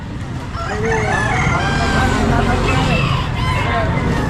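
A White Leghorn rooster crows amid the busy hubbub of an outdoor pet market in Baliwag, with voices talking and chatter in the background throughout.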